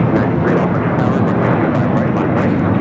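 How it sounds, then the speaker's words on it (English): An American Airlines 737-800 airliner bound for Chicago takes off from runway 25R at LAX, a loud, continuous broadband jet roar filling the air, with a voice talking over it. "Another takeoff, 250 right."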